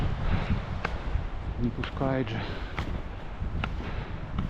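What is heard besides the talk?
wind blowing on mountain wall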